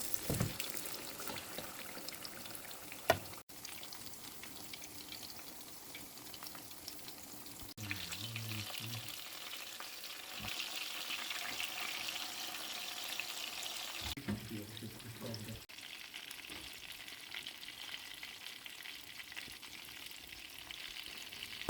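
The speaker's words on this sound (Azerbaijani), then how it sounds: "Unladıqdan sonra isə suya salıb çıxarıram və yaxşı qızmış tavaya yerləşdirib qızardıram" Fish frying in a well-heated pan, a faint, steady sizzle with a few short crackling bursts and a sharp clank early on, with no talking.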